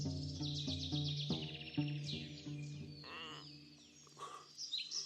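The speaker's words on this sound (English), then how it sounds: "The rain has stopped and the birds are out." Birds sing and chirp in a quiet morning scene just after rain has stopped, with several bright trilling and tweeting phrases layered over soft low tones.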